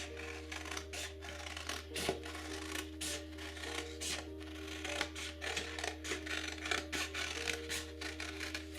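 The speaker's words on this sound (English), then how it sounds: "get a smaller set of scissors and cut out the circles" Scissors cutting around the outer edge of a painting background, with repeated soft snips and rubbing strokes close by and fairly quiet over a steady low hum.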